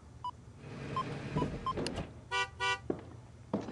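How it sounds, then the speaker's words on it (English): A truck pulls up in the video game Alibi in Ashes: soft engine rumble under a string of short electronic tones and two buzzy horn-like blasts, with no speech. "And we're playing this until we hear a truck."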